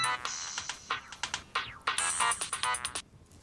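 A telephone rings with a bright electronic ringtone, loud and close, sounding as a series of quick chirping tone bursts that repeat without pause and then stop.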